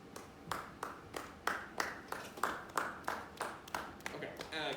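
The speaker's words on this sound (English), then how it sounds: "can I have you clap 8th notes for me?" Students in a music class clap steady eighth notes, roughly ten evenly spaced sharp claps in a regular rhythm, moderately loud in a room.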